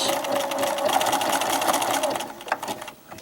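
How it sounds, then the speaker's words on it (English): A sewing machine back stitches along the edge of a fabric bookmark, its rapid needle chatter running close and steady for a few seconds before slowing and stopping. "when you get all the way down to the edge here, then you're just going to back stitch"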